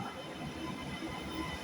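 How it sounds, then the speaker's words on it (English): Class 397 passenger train pulling into a station platform, a steady low rumble of rolling wheels and carriages with a faint hiss, fairly distant and continuous for a moment. "arriving in now is the 11:33 Trainspotting Express service from Manchester Airport to Edinburgh Waverley, for a class"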